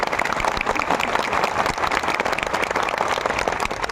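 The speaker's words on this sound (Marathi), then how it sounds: "पुरुष मंडळी आपल्या टाळ्या दाखवा." Men in a comedy-speech audience in Buldhana clap together, a dense, loud burst of applause that carries steadily through the whole stretch with no voices over it.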